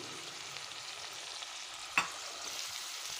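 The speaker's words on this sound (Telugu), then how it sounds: "అది పచ్చిమిర్చి వేస్తున్నాను తరిగి ఉంచుకున్న ఉల్లిగడ్డ వేస్తున్నా అండి" Chopped onions and green chillies fry in a pan with a faint, steady sizzle and one sharp clink partway through.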